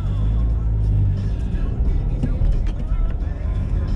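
A car driving along with a steady low engine and road rumble, moderately loud and continuous beneath a person talking inside the cabin.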